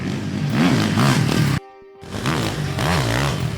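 A 2019 Husqvarna motocross motorcycle engine revs loudly and close, its pitch rising and falling, broken midway by a brief near-silent gap before the revving resumes.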